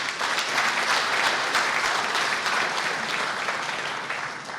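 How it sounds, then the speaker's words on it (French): Sustained, well-fed applause from the audience at a televised scientific excellence awards night, an even wash of many hands clapping together, steady and fairly close, with no voices over it. "Merci de saluer le mérite des chercheurs burkinabés par des applaudissements bien nourris"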